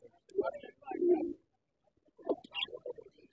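Pigeons coo at an outdoor pigeon market in Hemayetpur, in two soft, throaty bursts of rolling calls separated by a brief pause.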